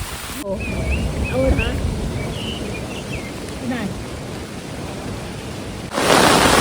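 Steady, dense rain roars close by with gusty wind noise throughout, and voices talk briefly over it; the downpour swells louder at the end.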